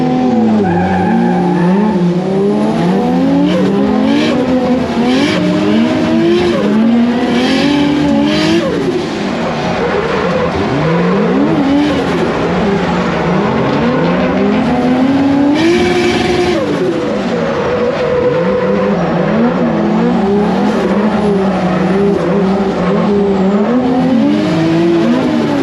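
Two 1JZ-powered Toyota AE86 Corolla drift cars battling at a drift event in Ireland, tires squealing continuously and loudly under revving engines, sustained throughout.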